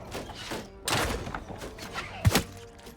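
Ballista bolts loosing in Mount & Blade II: Bannerlord, a handful of dull wooden thunks spread over a few seconds with one sharp, heavier thump near the end, set against a low battlefield din.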